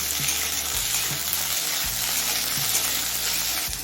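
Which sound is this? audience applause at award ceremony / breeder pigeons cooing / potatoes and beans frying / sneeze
potatoes and beans frying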